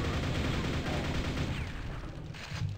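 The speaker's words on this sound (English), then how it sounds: "Shotgun." Gunfire in the shooter game Quake, a dense burst of loud, overlapping blasts filling the whole stretch with little pause between them.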